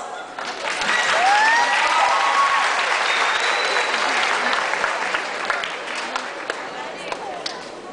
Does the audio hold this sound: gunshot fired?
no